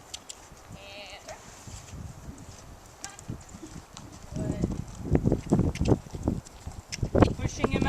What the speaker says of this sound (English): Try a little canter.